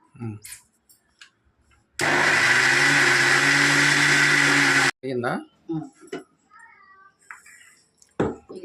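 A mixer grinder grinds tamarind and spices for black chili powder (nalla karam). It gives about three seconds of loud, steady whirring, with a person talking before and after.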